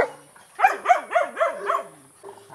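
A household dog, one of many kept by its owner, gives a rapid run of five yelping barks up close, then falls quiet before a softer whine at the end.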